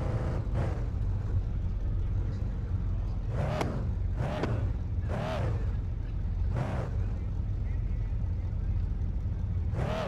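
A car engine in a car dealership simulator game runs with a steady low idle rumble throughout, while a person talks over it in short bursts.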